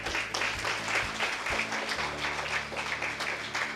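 An audience applauds in a crowded hall, a steady wash of many hands clapping at a moderate distance, with a low hum underneath.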